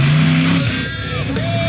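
A monster truck's engine warms up with a steady low rumble that shifts pitch partway through, loud and close, while a voice talks over it.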